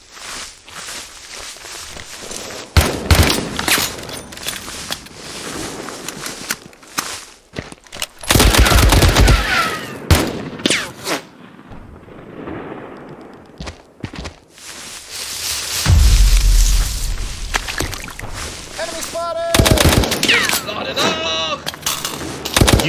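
Bursts of machine-gun and rifle fire rattle through a war video game battle along the Rhine River, loud close volleys broken by short lulls, with footsteps and shouted game voices in between.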